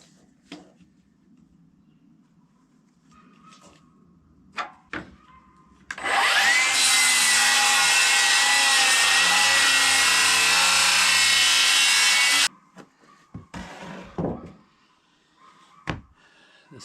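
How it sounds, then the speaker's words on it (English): A power saw resaws wooden boards cut from a milled log, a loud steady whine running for about six seconds, with quieter knocks and handling noises before and after. "the first project for the day is to resaw these boards from the last log I'd milled"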